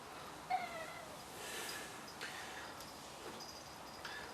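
A pet cat meows indoors in a quiet room, giving a few soft, short meows spread over several seconds.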